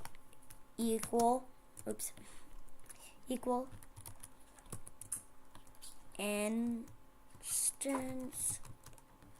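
Code being typed on a computer keyboard in quick bursts of soft key clicks. Someone talks over and between the typing.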